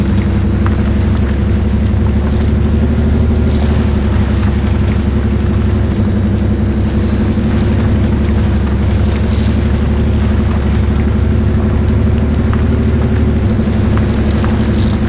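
Heavy off-road truck grinding through deep mud in the video game MudRunner, towing a trailer, a loud constant low engine drone with steady rumble and no variation, close and unbroken, with no talking.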